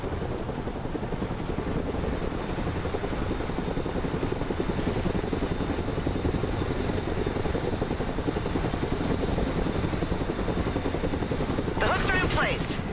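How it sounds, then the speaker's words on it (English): A Chinook cargo helicopter flies in the video game Broken Arrow, its steady, heavy rotor thrum and engine drone continuing loud and unbroken throughout. "let's go pick up this M113 with the Chinook"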